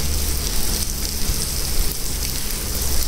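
Steady rain falls outdoors during filming, a dense constant hiss of drops, loud and close, with no voices.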